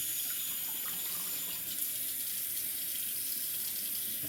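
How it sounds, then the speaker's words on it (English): Water streams steadily from a running tap as a lathered shaving brush is rinsed clean, a continuous close splashing hiss with no break and no voices. "Clean off the brush really quick."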